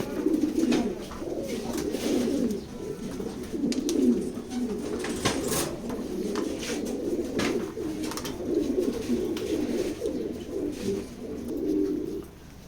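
Male pigeons of foreign bloodlines coo steadily in a crowded pigeon loft, several birds overlapping in a continuous low, throaty murmur throughout with no speech.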